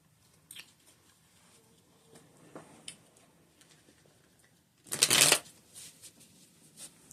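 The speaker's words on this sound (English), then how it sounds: "Let's go ahead and get the cards out on the table" Tarot cards shuffled and handled on a table, with light taps and shuffles early on, then a loud, dense riffling burst in the middle followed by a few softer card sounds, no talking.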